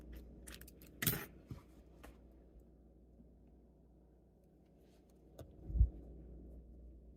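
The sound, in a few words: scissors handled to cut yarn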